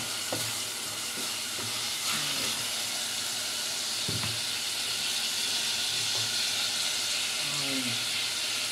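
Pork belly (liempo) sizzles steadily as it sautés and renders its own fat in a pan, a continuous close frying hiss with occasional stirring clinks and faint voices in the background.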